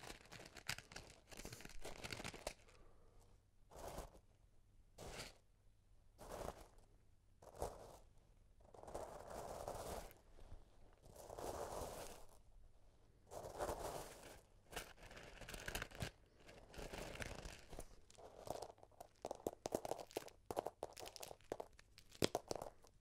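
Loud, wet crunching and crackling bursts come in irregular squeezes of crunchy milk slime, close up, with brief quiet gaps between them.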